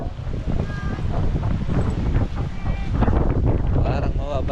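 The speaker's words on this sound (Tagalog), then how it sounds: "Malakas ang hangin." Strong wind roars steadily over Taal Lake in rough weather, with growing waves and a boat motor adding a constant rumbling wash, loud and close throughout.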